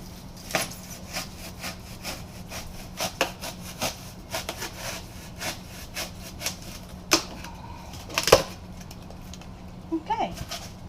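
Cutting along marked lines for an enclosure build gives irregular, sharp scraping and clicking strokes at close range, fairly quiet, with short pauses between bursts.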